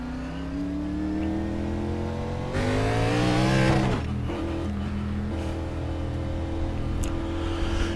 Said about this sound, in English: let's take the car on the racetrack